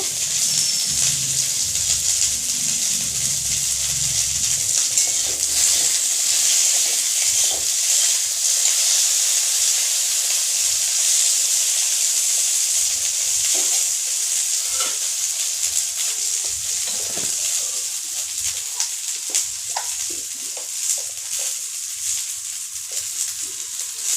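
Okra fries lightly in a kadai with little oil, a continuous hiss of moderate loudness that fades slightly over time, broken by occasional stirring clicks and with no voices.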